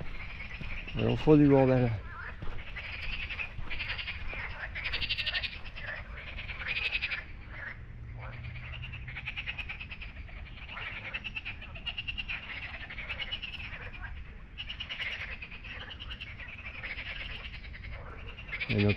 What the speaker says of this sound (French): Ah, ils sont là, les grenouilles.